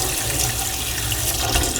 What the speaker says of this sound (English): Cold water in that.